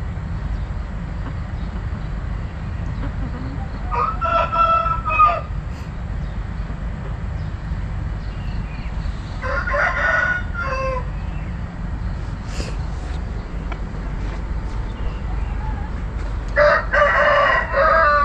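Chickens and a rooster kept at a backyard coop, with the rooster crowing three separate times at moderate distance over a constant hum of background noise and faint clucking.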